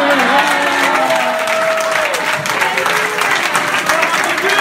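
A church congregation in Nice applauds in acclaim of the Lord, sustained clapping from a crowd, with voices rising and calling out over the applause.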